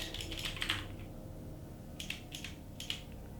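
Fingers type on a computer keyboard entering text into Google Translate, with short, close bursts of quick clicking keystrokes separated by brief pauses over a quiet room hum.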